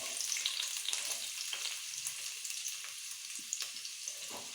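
Sliced onions dropped into hot oil with chopped garlic and ginger, sizzling steadily and close, with a dense bright crackle and a few stirring taps, no voices.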